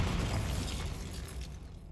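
A Bombarda blasting spell goes off in Hogwarts Legacy, a single burst with a rumbling boom that decays over about two seconds.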